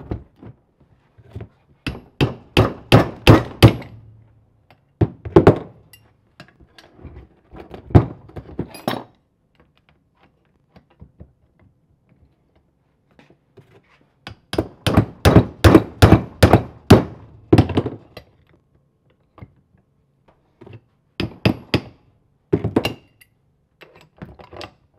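Repeated metal-on-metal hammer blows work at a lock ring on the starting clutch of a 1950s Caterpillar TraxCavat, coming in sharp close bursts of rapid strikes separated by quiet pauses.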